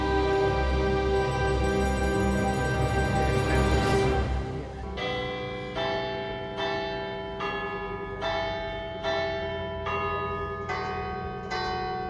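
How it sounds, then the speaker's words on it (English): Church bells ring across Palermo, Sicily, one church after another: a dense wash of pealing gives way to steady, rhythmic single strikes with long ringing tails, heard from a distance over open city air. "And one after the other, all of the other churches in the city are ringing their bells."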